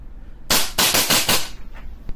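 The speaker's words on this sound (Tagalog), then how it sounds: "pakita ko lang yung blowback niya. Okay, firing." An airsoft gun with blowback firing a quick burst of about five sharp, loud cracks close by, followed by fainter trailing clicks.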